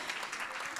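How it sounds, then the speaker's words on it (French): Audience applause in a conference hall, a brief, faint wash of many hands clapping evenly under a murmur of voices. "on peut les applaudir bien fort quand même"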